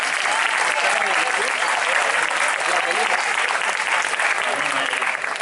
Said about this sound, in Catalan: Un fort aplaudiment als Cristians